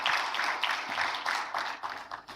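Conference audience applauding at a high-level dialogue event, a dense wash of many hands clapping at moderate distance, steady and sustained throughout with no voices on top.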